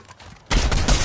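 Gunfire in a shooter video game breaks out as a sudden loud burst of rapid shots after a quiet moment, continuing densely to the end.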